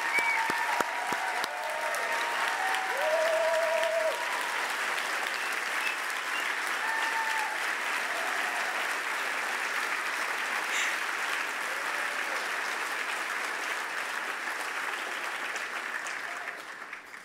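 An audience claps steadily at an awards ceremony, a dense, sustained round of applause filling the room from start to finish with no voices over it.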